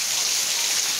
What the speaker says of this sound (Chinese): 今天下大雨啊